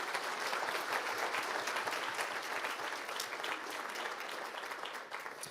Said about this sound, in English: let's have a big round of applause for our 3 finalists